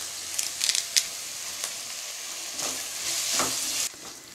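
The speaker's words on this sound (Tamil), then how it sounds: "வெங்காயம் சேர்த்து கொஞ்ச நேரம் நல்லா வதக்கி விடலாமா." Onions sautéed with curry leaves in a pan for mango sambar, a hissing sizzle broken by clattering spatula strokes, close and moderately loud, swelling into a louder sizzle before easing off.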